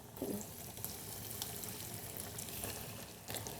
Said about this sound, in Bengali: বাহ দারুণভাবে ফ্রাই হচ্ছে